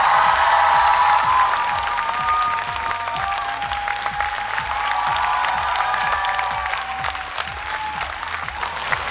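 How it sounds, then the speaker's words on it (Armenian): A studio audience at an X Factor television gala gives sustained applause, with dense clapping holding steady for several seconds alongside some cheering. Music plays faintly underneath. "Ծափարություններ մեր չեմպիոններին, շնորհակալություն ձեզ։"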